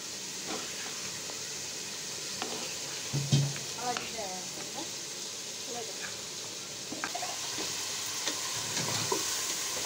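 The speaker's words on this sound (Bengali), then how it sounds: "তো এদিকে কিন্তু আমার পেঁয়াজ এবং চিংড়ি মাছগুলো ভাজা হয়ে যাচ্ছে" Onions and shrimp fry in a pan, giving a soft, steady sizzle with occasional stirring scrapes and clinks, with faint kitchen noise around it.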